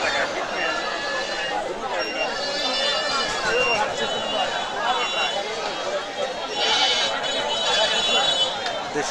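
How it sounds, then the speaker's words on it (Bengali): Several native-breed goats bleating in high, wavering cries at a goat market, over a busy background of people chattering nearby. "খালি দেশি জাতের ছাগল দেখাবো আপনাদের"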